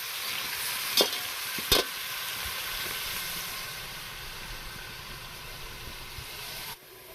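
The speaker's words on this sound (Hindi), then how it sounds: "अब हम इसमें डाल लेंगे प्याज को हम ब्राउन कर लेंगे" Onions browning in hot ghee give off a soft, steady sizzle that runs without a break, with two sharp utensil clinks early on before the hiss cuts off near the end.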